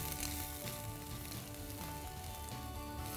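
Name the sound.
mustard seeds, urad dal, chana dal and ginger frying in oil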